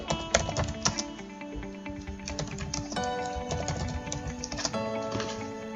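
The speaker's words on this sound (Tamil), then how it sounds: "இப்போ டைப் பண்ணுங்க." Rapid, steady typing on a computer keyboard while text is entered in Adobe Photoshop, a dense run of close, clear key clicks heard alone without speech.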